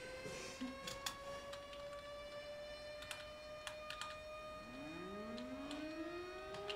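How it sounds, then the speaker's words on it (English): Long rising and falling wail of a city tornado siren in a Minecraft localized weather mod game, droning steadily over faint clicking, with a second siren tone sweeping up near the end. "Oh, there's the siren."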